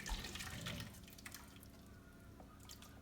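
Thick, clumpy garlic soup is poured into a pitcher, giving a wet, sloshing splatter that is loudest at first and then settles into a steadier, softer pour.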